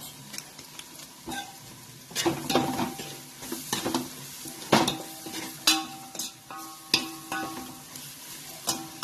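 Spice powders, including coriander, cumin, chilli and garam masala, roast in hot oil for a whole masoor lentil dish, with a steady close sizzle broken by repeated loud scraping stirs and clinks against the pan.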